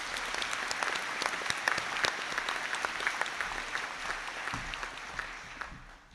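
Graduation ceremony audience giving a round of applause, a dense, fairly distant wash of many hands clapping in a large hall, steady throughout before tapering off at the end.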